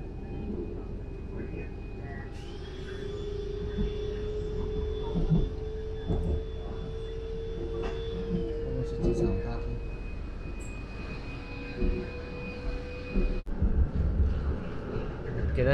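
Airport rail link train in Malaysia accelerating, a steady rising motor whine with tonal hum and rumble sustained throughout, heard from inside the carriage at moderate level.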